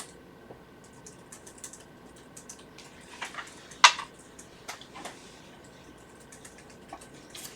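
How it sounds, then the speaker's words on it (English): Keys tapping on a computer keyboard in a quiet room, a scattered run of soft, light clicks with one sharper keystroke near the middle, fairly close and alone with no talk. "Sorry, you're typing."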